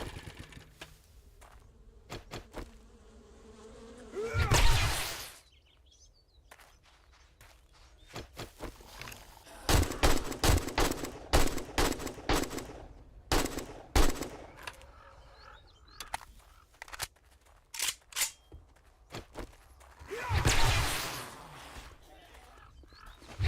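AK rifle fire in the survival game 7 Days to Die: rapid bursts of sharp shots in clusters, with a few heavier booms between bursts and quieter gaps, while a person talks at times.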